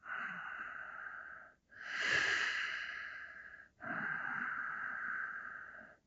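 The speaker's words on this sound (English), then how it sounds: "Deep, deep breath way down." Deep, slow breathing during a yoga twist for sacroiliac joint release, three long airy breaths with short pauses between them, close and fairly quiet, with no talking.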